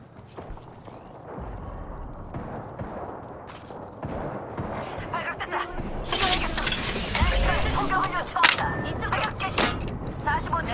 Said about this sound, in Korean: 사격 중이다.